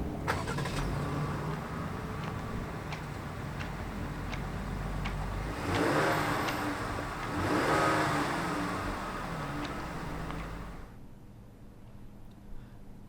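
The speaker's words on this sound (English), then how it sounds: "let's take a moment and listen to this V6 engine here" A 2016 Jeep Grand Cherokee's naturally aspirated V6 runs steadily nearby, swelling in two revs before the engine note cuts away and leaves a quiet hush.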